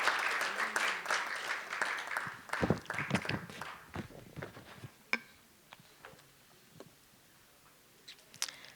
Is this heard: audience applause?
yes